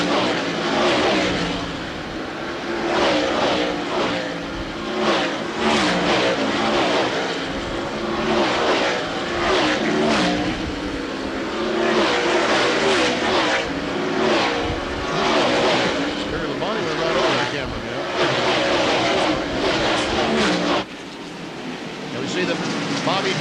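NASCAR stock cars race on track at the 1995 Tyson Holly Farms 400, their engines making a loud, continuous roar that swells and fades repeatedly as the cars sweep past.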